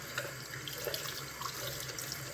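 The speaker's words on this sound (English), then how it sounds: "Okay, so we're just rinsing it." Tap water runs steadily into a sink as a handwoven wool weaving is rinsed, a continuous close splashing flow with small sloshing variations throughout.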